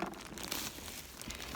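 Packaged plastic emergency poncho being handled, giving a continuous close crinkling and crumpling of thin plastic with no talk over it.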